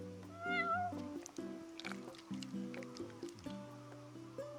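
A cat in a video game gives a rising meow, followed by a few shorter mews over soft in-game background music.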